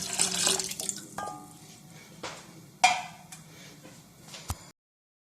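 About one and a half cups of milk are poured into a pot of soaked sabudana for a winter breakfast, a soft, close liquid pour with a few splashy bursts, lasting a few seconds before stopping abruptly.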